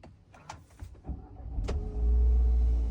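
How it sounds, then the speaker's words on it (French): An electric seat motor in a Renault Scenic Edition One adjusts itself automatically as the car starts, a steady low whir building up and holding close by after a few faint clicks. "je démarre, le siège se règle automatiquement"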